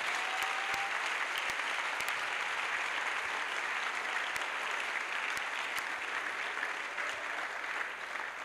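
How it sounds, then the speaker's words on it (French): A congregation at an evangelism crusade applauds in steady, dense clapping that sounds large and roomy, keeping an even level throughout with no voices rising above it. "Let us clap for Jesus."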